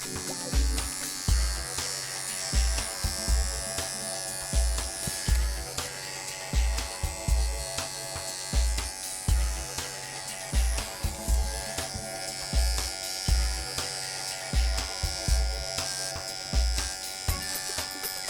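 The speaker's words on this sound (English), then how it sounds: "Just go over my clipper work and make sure it's nice and neat" Electric grooming clippers work over a standard poodle's coat, a steady close buzz broken by repeated short low thumps and motor surges as the blade passes, with no talk.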